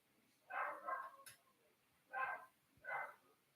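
Dogs bark in three short bursts, with the first a double bark and then two single barks spaced apart, moderately close, with quiet between them.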